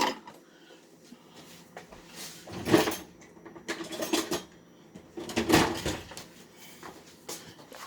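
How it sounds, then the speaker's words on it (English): Cornbread batter being stirred in a bowl until just moistened, quiet intermittent scraping and clinking of a utensil against the bowl in irregular bursts, close by, with no talk. "we are going to just mix this until moistened"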